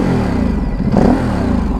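A stock 2017 Ducati Supersport motorcycle engine runs close and loud with a deep, throbbing exhaust note, revving up briefly around the middle before settling back.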